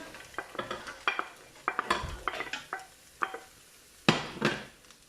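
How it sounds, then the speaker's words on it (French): Ground meat and vegetables for chili fry in a pan while a utensil stirs and scrapes, giving a run of sharp, close clatters and scrapes over a low sizzle, with no talk. "On fait cuire environ 10 minutes, juste à temps que la viande soit cuite et qu'elle ait une petite coloration."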